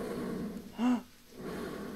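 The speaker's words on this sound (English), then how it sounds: "I hear breathing!" A heavy, breathy gasp or snort rises close by for a moment over a low droning ambience in Final Nights 2, a fan-made FNAF horror game, then fades back into the hum.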